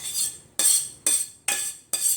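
Scraping strokes of cutlery across a plate, five in a row at a steady pace, close and crisp with no talking.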